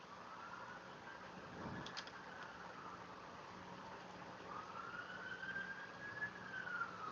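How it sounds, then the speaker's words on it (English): A wailing siren sweeps up and down, faint and distant, as emergency vehicles pass through a busy neighborhood, over a low murmur of traffic and engine rumble. "You can hear the sirens."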